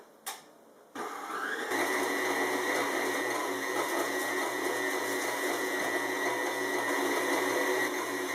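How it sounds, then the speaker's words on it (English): Stand mixer kneading sourdough whole wheat bread dough on speed 4, a steady loud motor whir with a rhythmic churning texture that starts after a brief click and runs continuously alone. "I'm going to knead it on speed 4 for up to 15 minutes"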